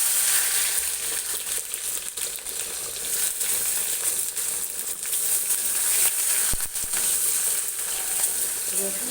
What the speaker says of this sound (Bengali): তো শাকে প্রথমে কাটা রসুন আর শুকনো লঙ্কা, এবার একটু নাড়াচাড়া করে এবার দিচ্ছি